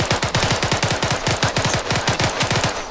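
Full-auto gunfire in a video game, a loud, rapid, steady burst of evenly spaced shots running for about three seconds with no talk.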